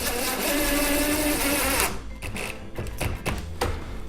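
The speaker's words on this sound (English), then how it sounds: "using a screw appropriate for the countersink, we're actually going to go through the face frames of both of the cabinets" A power drill drives screws through kitchen cabinet face frames, with a loud whirring run for about two seconds followed by several short bursts and knocks.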